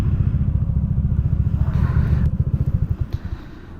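A Honda ADV160 scooter engine idles nearby with a steady, throbbing putter while being parked, then slows and sputters as it is shut off.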